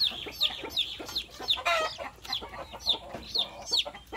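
Native hens cluck close by in rapid, agitated bursts while their chicks are being caught. The calls repeat roughly every half second.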